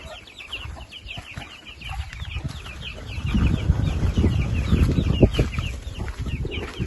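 Several chickens cluck and chatter close by, growing busier and louder partway through, with rustling and scuffling underneath.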